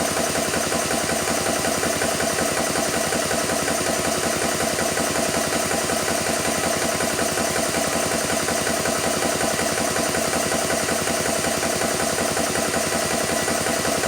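A loud, steady air compressor engine drone chugs continuously with a fast rhythmic pulse, close and unchanging for the whole stretch, no voices.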